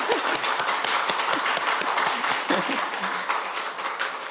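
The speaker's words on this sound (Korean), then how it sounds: "자, 격려의 박수를 보내주겠습니다" Sustained applause from a church congregation during a Sunday service, dense steady clapping that carries on without a break.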